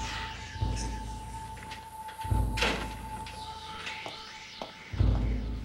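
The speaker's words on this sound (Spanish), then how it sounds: "cierra la puerta y vienes acá" An indoor door is pushed shut with a few dull thumps and a bump over a steady hum, fairly close and moderately loud, with no talking.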